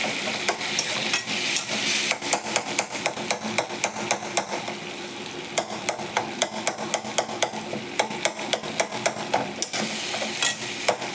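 Tomatoes frying in a pan for tomato kadhi, with a steady sizzle and repeated sharp clicks of a spoon stirring and scraping against the pan, close and clear with no talking.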